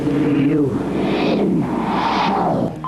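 A heavy metal album played in reverse, a loud smeared wash of swelling, sucking tones with garbled reversed vocals sweeping up and down over about three seconds.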